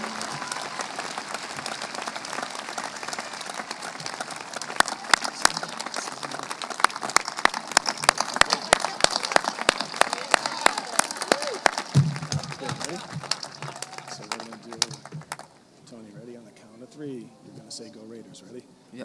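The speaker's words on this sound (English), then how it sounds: "Let's give them a round of applause." Audience applause and cheering at a North Quincy High School graduation ceremony, a dense, loud wash of clapping with sharp claps standing out, fading after about twelve seconds into quieter crowd murmur and voices.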